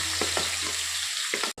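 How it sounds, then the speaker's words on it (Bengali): Chopped chili and capsicum sizzling in a pan with cornflour water while a utensil stirs, giving a few soft scraping strokes over a constant frying hiss and a sharp clack at the end. "কিছুক্ষণ লেড়ে নেব।"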